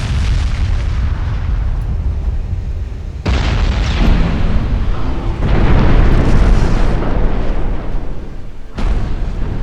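Torpedo explosion sinking a ship in a naval battle game: a sequence of heavy booming blasts with deep rumbling bursts that cut in abruptly and roll on loud and close, no speech over them.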